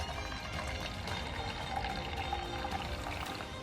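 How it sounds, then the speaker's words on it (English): Liquid fertilizer pours steadily from a jug into a measuring cup, a soft continuous trickle and gurgle, faint and close, with no talk. "Simply hold your cup here and gently lift up on it. You can see it start pouring in."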